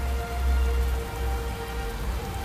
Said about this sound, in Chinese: 今天下雨